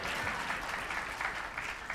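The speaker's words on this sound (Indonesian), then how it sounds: "Tepuk tangan buat Tuhan." A church congregation claps together in steady, dense applause that fills the room evenly without a break.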